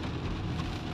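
Rain falls steadily during a wet Sunday in Italy, a dense continuous hiss of drops on surfaces with no breaks, moderately loud and close, with no voices over it.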